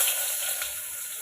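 Onion dropped into hot oil for Schezwan rice, giving a brief, steady, bright sizzle close by with no one speaking.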